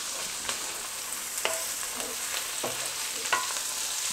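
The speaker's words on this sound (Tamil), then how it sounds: "வெங்காயம் நல்லா வதங்கிருச்சு" Onions sauté in a pan with a soft, steady sizzle, broken by a few scattered clicks and scrapes of stirring, close and alone.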